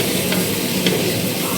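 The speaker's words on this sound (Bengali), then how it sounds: "এই আলুগুলো দিয়ে এগুলোকে নাড়বো।" Potato chunks being stirred as they fry in a pan, a steady close sizzle with scraping stir strokes standing out twice, no voices over it.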